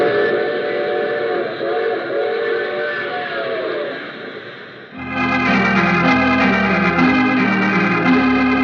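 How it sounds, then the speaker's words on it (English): An old-time radio drama train effect: a steady rumbling rail hum with a wavering whistle tone, then a louder, brighter, layered steam whistle blast sustained to the end. "I take this same train every week at this same time."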